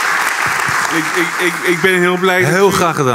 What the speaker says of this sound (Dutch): Dus applaus ervoor.